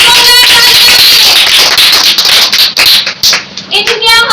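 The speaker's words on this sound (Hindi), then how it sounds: "अभी दिया के लिए जोरदार तालियां चाहिए, जोरदार तालियां" Loud applause and clapping from an audience at a children's ministry competition, dense and sustained for several seconds, briefly thinning before swelling again.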